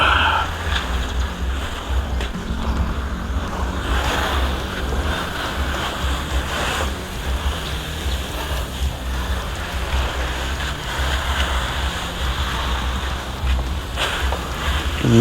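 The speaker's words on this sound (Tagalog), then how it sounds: "So medyo basahin muna natin ng konti para lumambot yung dumi." Water sprays onto a Honda PCX scooter to wet it before washing, making a loud, continuous rushing hiss that holds steady throughout without pauses.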